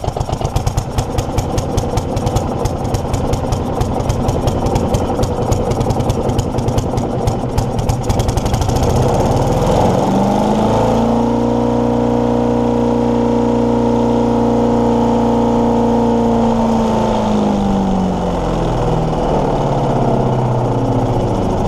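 A Briggs and Stratton Intek engine on an Earthquake wood chipper, left to rust, runs loud and close, first with rapid rough firing on choke, then settling into a steady drone whose pitch dips and rises before easing back.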